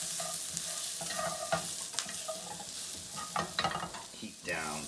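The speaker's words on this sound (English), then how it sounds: "Mix that around." Pork steak in peanut curry is stirred in a hot pan, with a spoon scraping and knocking against the pan over a steady sizzle, irregular close strokes and a louder scrape near the end.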